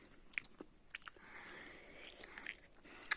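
Quiet, close chewing of a very hard gummy candy snake, with sticky smacks and a few crisp clicks, the jaw working slowly and effortfully.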